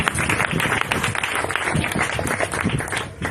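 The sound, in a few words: congregation applause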